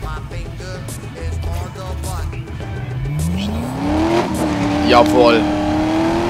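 A race car engine in Need for Speed: Most Wanted revs and climbs in pitch with a short tire squeal, loud and close, while someone talks over it.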